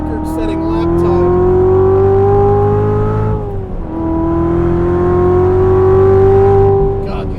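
A DSC Sport tuned 2016 Chevrolet Corvette Z06 with 640 horsepower accelerates hard on a race track, its engine note climbing steadily, dipping briefly at a shift, then rising again, loud and close throughout.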